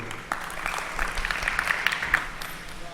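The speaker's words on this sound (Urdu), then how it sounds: "ارے کم ہی صحیح لیکن زوردار تالیاں بجا سکتے ہیں آپ" An audience at an All India Mushaira poetry gathering in Gandhi Bhawan, Lucknow, claps in a steady burst of moderate applause. The clapping is fairly close and continuous for about three seconds, with a few louder individual claps standing out.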